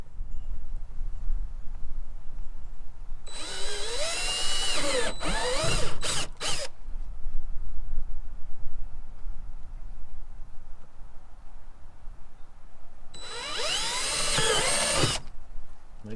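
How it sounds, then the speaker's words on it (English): A handheld power drill boring holes for a homemade backpacking gear sled, in two separate bursts: a longer whine that rises and stutters, a quiet gap, then a second shorter run. "Let's drill some holes."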